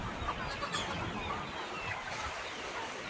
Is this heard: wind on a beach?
no